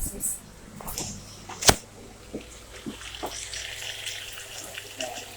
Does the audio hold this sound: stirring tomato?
yes